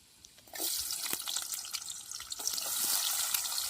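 Garlic and onion dropped into very hot oil in a heavy pan, a sudden close sizzle that swells and keeps crackling and hissing steadily, with no talking.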